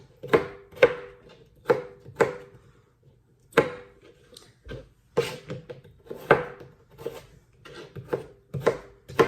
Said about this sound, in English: I'm doing really kind of a rough chop too, just trying to get it done